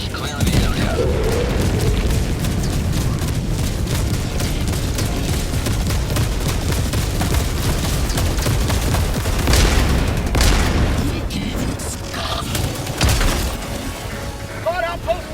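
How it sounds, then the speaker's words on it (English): Orbital barrage strikes in the video game Helldivers 2 set off a dense, continuous series of heavy booms and crackling blasts, loud throughout and swelling near the middle, with game voices and chatter mixed in. "And the sound design, oh my god, dude, just listen to this. Firing orbital barrage."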